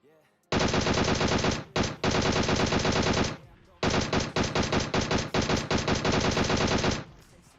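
Gunfire in the mobile battle royale game PUBG Mobile: two long, loud bursts of rapid automatic fire, split by a short gap, then a string of quick volleys that stops near the end.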